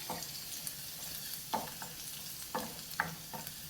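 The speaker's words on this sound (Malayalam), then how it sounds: "ഞാനൊരു 3 അല്ലി വെളുത്തുള്ളി ചെറുതായിട്ട് ചോപ്പ് ചെയ്തത് ഇതിലേക്ക് ഇട്ട് കൊടുക്കുകയാണ്." Three cloves of chopped garlic fry in hot oil for broccoli soup, giving a soft, steady sizzle broken by a few louder scrapes and clinks of stirring in the pan.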